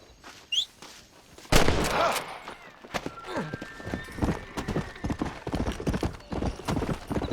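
Horse hooves galloping in the video game Red Dead Redemption, a steady rapid clip-clop rhythm building after a loud impact, with a whinny and brief distant gunfire-like cracks in the mix.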